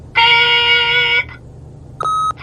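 In the game The Wolf Among Us, an answering machine gives a loud, clear electronic beep, a sustained tone of about a second followed by a shorter second beep, over faint background hiss.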